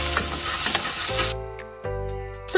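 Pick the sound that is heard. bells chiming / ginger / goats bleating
ginger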